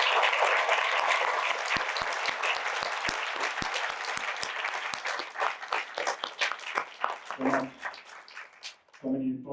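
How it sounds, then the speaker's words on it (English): An audience claps loudly after a talk, with several sharp individual claps standing out early, then the applause thins into scattered claps and a voice begins speaking near the end. "Big round of applause."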